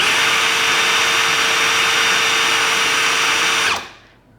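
DeWalt drill running at its low speed 1 setting, a loud steady high-pitched motor whine held for nearly four seconds before spinning down and cutting off.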